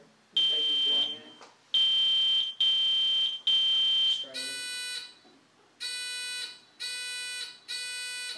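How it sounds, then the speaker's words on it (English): Quiz buzzers are tested one after another in a school academic league match, sounding as loud electronic beeps in short bursts. Two different tones are heard, with a brief pause between each press. "how about we check our buzzers again over here?"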